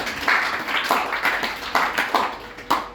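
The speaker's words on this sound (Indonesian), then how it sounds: "Tepuk tangan buat saudara." A church congregation claps during a sermon, a sparse run of separate handclaps at an uneven pace over a steady room murmur, fairly close and moderately loud.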